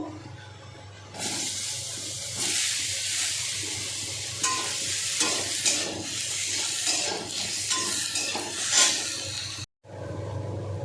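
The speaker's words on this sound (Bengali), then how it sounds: "বেগুনগুলোকে ভেজে নেব" Eggplant slices frying in oil in a pan, a loud continuous sizzle with stirring scrapes and bursts of spattering, cut off briefly near the end before resuming.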